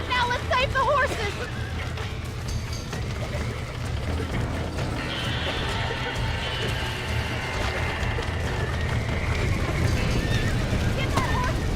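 Red Dead Redemption horses whinny and neigh repeatedly over a steady hum of background noise, with hoof clatter and a voice talking intermittently.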